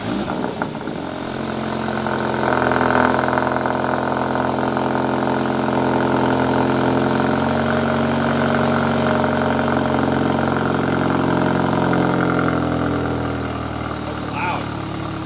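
A BMW M235i with a Cobra downpipe and stock exhaust idles loudly and steadily after a cold start, with a low, even rumble that holds for the whole stretch.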